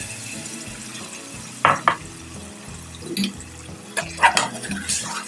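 Leftover marinade water from chicken biryani tipped into a cooking pot, a few short splashy pours and clinks of the vessel, close and moderately loud, with no speech.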